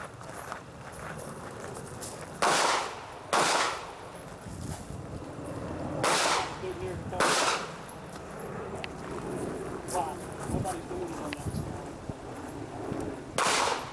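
Pistol shots ring out outdoors during an IDPA shooting match stage at Mecklenburg Wildlife Club. About five sharp, loud reports come in spaced groups, with a pair close together, over steady background noise.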